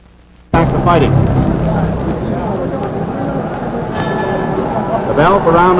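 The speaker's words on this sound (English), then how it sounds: "The bell for round number 5." A ringside bell clangs to open round five of the 1950 Rocky Graziano vs Gene Burton boxing match, ringing out over a roaring arena crowd while a commentator talks throughout.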